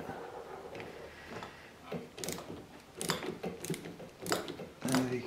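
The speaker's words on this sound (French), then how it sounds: "on est content qu'on a des clés à douille à cliquer, ou des clés à œil à cliquer" A ratcheting socket wrench tightens nylon lock nuts while cable chains are fitted to an X axis, giving faint, close, uneven bursts of ratchet clicks with pauses between them.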